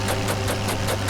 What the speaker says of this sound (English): I hear an engine.